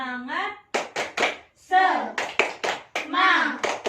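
Primary school children in a science class clap a rhythmic classroom chant, sharp bursts of hand claps in quick groups mixed with their chanting voices, loud and close.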